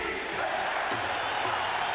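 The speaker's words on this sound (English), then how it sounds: "if you listen carefully, you can hear the roar of the crowd as they cheer on the Buffalo Bills" Roaring crowd of Buffalo Bills fans cheering at a football stadium, a dense, sustained wall of voices with no breaks, loud and distant-sounding, heard under a speaking voice.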